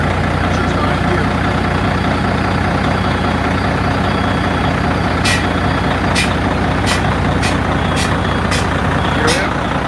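A truck engine idling loudly and steadily up close while its air brake pressure builds, with a run of sharp high beeps or chirps in the second half.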